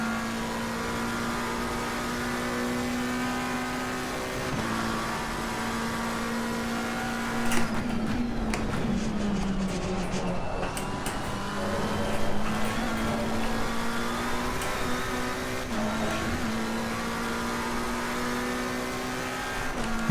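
A McLaren, Porsche or Lamborghini race car in Assetto Corsa Competizione laps Monza, its engine whining steadily at high revs through repeated upshifts and braking downshifts, with tire and curb rattles, loud and continuous without voices.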